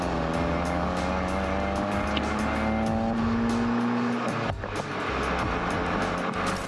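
A 2023 VW GTI Mk8 six-speed manual with a big dual exhaust revs up in a rising drone, then lifts off into a burst of turbo pops and crackles, heard close and loud with no talking.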